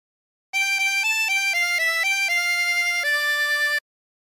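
A melody of La Cucaracha on a 24-hole tremolo harmonica, played as a short run of clear, reedy sustained notes with a gentle wavering shimmer, close and alone, lasting about three seconds.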